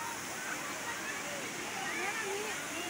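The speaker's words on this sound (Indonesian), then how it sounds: "Sungai yang melintasi jalan" A river flows beside a rocky road in the Cibodas Puncak area, a steady broadband rush of water running continuously, with faint chirping and voices mixed into the background.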